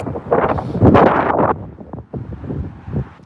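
Strong wind gusts of around 40 mph at Newcastle Airport, buffeting the microphone in loud, rough surges that swell, ease off and return.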